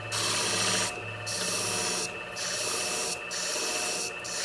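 A 7-inch beauty shear blade is drawn across an 800 grit sharpening stone in close, rhythmic rasping strokes, about four long passes with short pauses between them and no voices.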